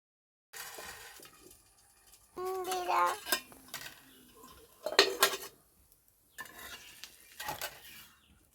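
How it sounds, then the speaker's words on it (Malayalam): Crushed banana stem dipped in oil being rubbed over a hot dosa pan, giving short bursts of scraping and sizzling with metallic clatter, separated by brief pauses. "ഇങ്ങനെ ചതച്ചിട്ട് എണ്ണയിൽ മുക്കി ദോശ ചട്ടിയിൽ ഇങ്ങനെ തേച്ച് കൊടുക്കും."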